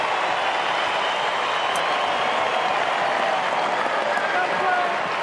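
A packed stadium crowd roars for a goal at a 2011 AFL Round 8 match between Fremantle and West Coast. The roar is loud and continuous, holding steady across the whole stretch without a break.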